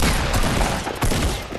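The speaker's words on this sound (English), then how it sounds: "Boy, this legendary shotgun is legit." Legendary shotgun blasts in a video game fight, a dense loud burst of overlapping gunfire lasting the whole moment with no voices over it.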